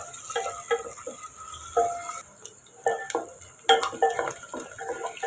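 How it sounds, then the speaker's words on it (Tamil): Chopped onions and green chillies are sautéed in a pan for mutton curry, with scattered spatula scrapes and taps over a steady hiss, close and moderately loud, with no voices. "கொஞ்சம் பெரிய வெங்காயம், 2 மிளகாய். இப்போ 2 நிமிஷம் நம்ம வதக்கி விட்டுக்குறோம்."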